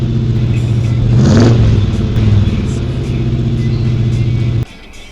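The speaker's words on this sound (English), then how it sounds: "let's rev it up for the car show" A car engine revs up close at a Mustang car show at Daytona, swelling to a loud roar before settling into a rough rumble and cutting off abruptly near the end.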